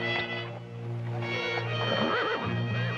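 A horse neighs and whinnies loudly nearby, with a drawn-out wavering call over a steady low hum and faint hoof sounds.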